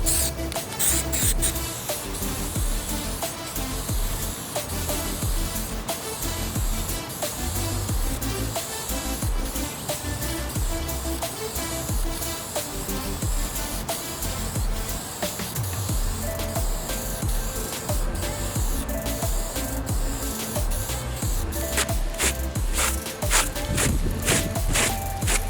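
Close, sustained hissing of aerosol vinyl dye sprayed onto car carpet in long bursts, with rubbing and shuffling handling noises between them.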